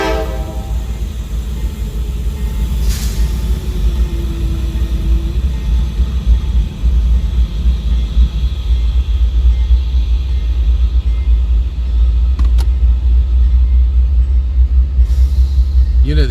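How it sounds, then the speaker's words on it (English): Freight car air brakes are charged as cars wait to be pulled at a rail yard, heard as a loud, steady rumble and hiss that runs the whole time, with a brief tonal blast early on. "I hear them airing the car up"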